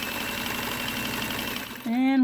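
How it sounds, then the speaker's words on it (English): A Kenmore sewing machine running a cam-driven decorative stitch, a steady motor whir with a rapid mechanical rhythm that carries on evenly, then shifts to a louder, higher hum near the end. "the machine will do what it needs to do in order to make the decorative stitch"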